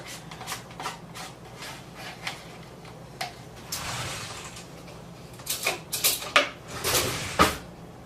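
Several light clacks and clinks ring out as a small dish is set down in a home kitchen during cooking, with soft shuffling and scraping between the sharper knocks.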